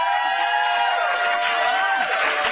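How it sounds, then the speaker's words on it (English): A studio audience on a daytime talk show claps and cheers, a dense, continuous wash of applause with scattered whoops filling the room at steady volume. "clap now"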